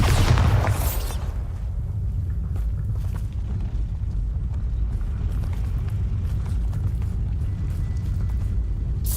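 A Bombarda explosion spell goes off in Hogwarts Legacy on PC: a loud boom at the start that fades into a long, steady rumble.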